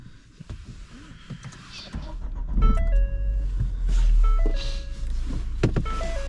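A 2017 Ford Fiesta ST engine cranks and catches, settling into a steady low idle, with a few electronic chimes and beeps sounding over it.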